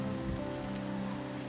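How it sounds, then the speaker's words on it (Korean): Steady rain falls on surfaces outdoors during flooding, a constant even hiss and patter, moderately loud, with no voices. "지금 또 아시다시피 계속 비가 내리고 있고"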